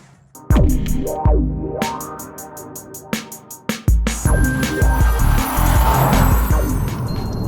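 Jaguar F-Type V6 S sports car, 375 bhp, revving hard through quick gear changes, with sharp bursts and pops between shifts and then a sustained loud engine note with some tire noise as it drives on.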